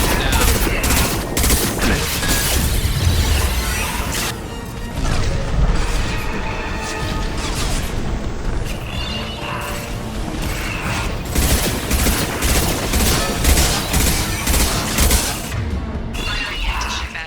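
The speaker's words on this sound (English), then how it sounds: "Firing anti-ship batteries at collector." Anti-ship batteries firing at the Collector ship in Mass Effect 2, a loud, dense barrage of booming shots and crashing impacts that rolls on continuously throughout.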